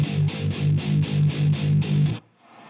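Ibanez Xtreme Tone Blaster amp on distortion, set tighter with boosted mids, delivers a tight run of about eight chugging palm-muted guitar hits in a steady rhythm, then stops sharply into near silence.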